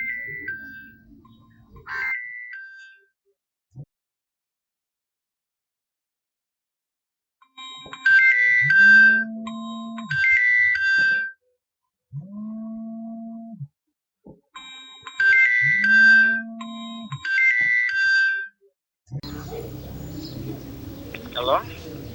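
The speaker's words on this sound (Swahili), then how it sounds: "Naomba upokee simu." A mobile phone ringtone plays in repeated bursts of bright melodic chirps, fairly close, alternating with gaps and stretches of speech in a drama scene.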